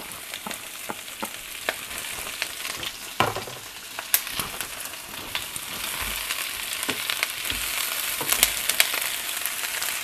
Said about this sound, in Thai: ผัดกระหล่ำกันเลยนะคะเพื่อน ๆ หลังจากทอดหอยเสร็จแล้วนะคะ